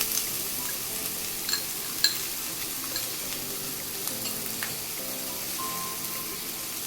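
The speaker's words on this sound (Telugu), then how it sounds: "ఒక కప్పు ఉల్లిపాయలు, ఇవన్నీ లో ఫ్లేమ్లో వేయించుకోవాలండి." Bitter gourd and onions for karela kurma fry gently in a pan over a low flame, giving a soft continuous sizzle with scattered small pops and a few light stirring clicks.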